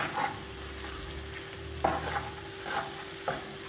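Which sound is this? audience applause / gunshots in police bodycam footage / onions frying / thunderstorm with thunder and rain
onions frying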